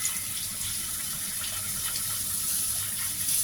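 Fresh mackerel rinsed clean under running water, a steady close gush of tap water pouring and splashing without a break.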